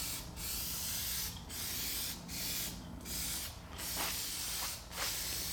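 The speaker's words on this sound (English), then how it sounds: "you usually wouldn't spray this paint like that" Paint is sprayed onto an army truck engine during a CMP rebuild in about six short, sharp hissing bursts with brief gaps between them, close and loud.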